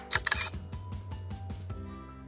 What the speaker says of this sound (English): So I'm going to click here on my shutter.